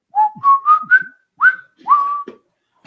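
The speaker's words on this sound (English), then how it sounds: "No more whistling." A person whistles a short rising melody, several clear notes in quick phrases with brief pauses between them, close and fairly loud.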